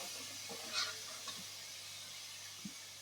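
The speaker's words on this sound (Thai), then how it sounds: "คั่วให้มันสุกก่อนนะครับ แต่ว่าไม่ใส่น้ำมันครับ คั่วกระทะเปล่าๆนี่ครับ" Ingredients being dry-roasted in an empty pan with no oil, with dried chillies added, giving a soft continuous hiss broken by a few light scraping stirs and clinks of the utensil against the pan.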